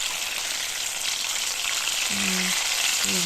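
Fried pelmeni dumplings in hot oil in a pan make a steady, close hiss of sizzling, with two short tonal beeps near the end and no voices.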